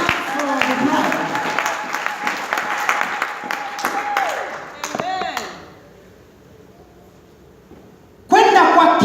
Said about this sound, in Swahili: Apigwe makofi kwanza bwana harusi.